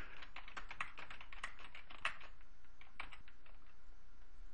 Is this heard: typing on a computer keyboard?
yes